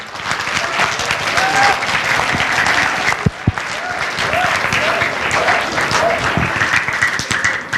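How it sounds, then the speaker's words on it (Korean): Sustained loud applause from a crowd, steady clapping throughout with a couple of sharp claps standing out midway. "뜨거운 박수로 저희가 모시도록 하겠습니다"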